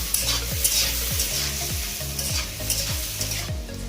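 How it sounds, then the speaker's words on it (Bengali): Mixed vegetables including cauliflower are stirred in a hot pan once the lid comes off, a dense sizzle with rhythmic spatula scrapes about every half second, close and loud, no voices. "ঢাকনাটা খুলে একটু নেড়ে নিই"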